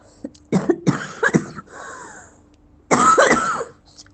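Someone coughs several times in quick harsh bursts, pauses, then lets out another rough cough, close and fairly loud.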